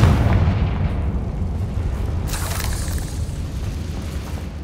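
A Confringo spell explodes in the Hogwarts Legacy video game as a loud, deep boom with a long rumbling decay and a brief crackling burst partway through.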